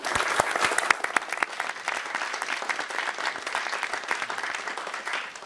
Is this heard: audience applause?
yes